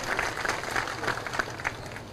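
A crowd at an outdoor election campaign rally in Kati, Indapur claps together in a dense, fairly distant wash of overlapping claps, with a voice faintly audible underneath.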